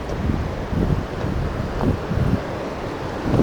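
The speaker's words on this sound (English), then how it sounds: "That's the roar of the water" Water roars at Hawks Nest Dam, a broad continuous rushing wash with gusty low rumbles, steady and moderately loud with no voices.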